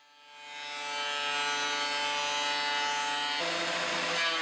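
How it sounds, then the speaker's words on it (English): A thickness planer milling a wooden board for a coffee table: the motor spins up over the first second into a loud, steady, high whine, and the cutter tone shifts near the end as the board feeds through. "now I'm going to use the thickness planer to mill that fourth side"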